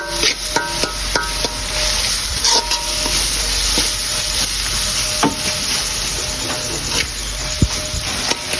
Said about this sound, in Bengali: মশলাটি একটু নাড়িয়ে নেব